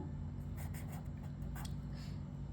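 Marker or chalk strokes writing a chemical equation on a classroom board, a quiet run of short scratchy strokes over a steady low room hum, no talking.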